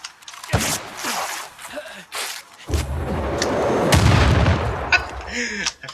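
Rocket explosions in a video game, a run of heavy booms and sharp blasts, some close and loud with rumbling tails, one after another with brief gaps between them.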